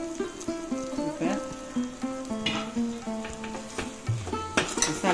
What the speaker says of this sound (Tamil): மசாலாவெல்லாம் இந்த வெங்காய தக்காளியோட ஒரு வதக்கிடலாம்